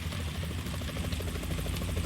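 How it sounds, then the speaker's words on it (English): A helicopter in the video game Metal Gear Solid 2 approaches, its rotor chopping in a fast steady pulse over a dense engine drone, loud and continuous for the brief moment. "Is that a chopper I just heard?"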